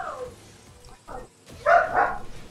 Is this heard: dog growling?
yes